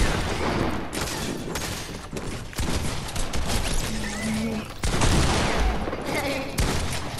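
Rapid bursts of video game gunfire in Fortnite, dense and close over a busy game soundtrack, with players talking over it.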